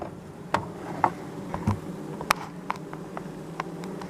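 Honeybees in a weak colony's hive after syrup feeding give a low, steady hum, punctuated by sharp, irregular clicks and taps from the hive or its frames, close by, with no talking.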